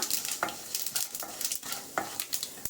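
Mustard seeds splutter in hot oil in a pan, with sharp popping crackles over a soft sizzle, bursting in quick irregular clusters close by, with no talking.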